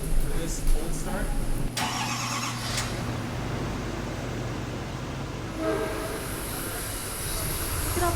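A dually truck's engine cold-starts and settles into a heavy, rumbling idle that fills the space loudly and steadily, with people talking over it.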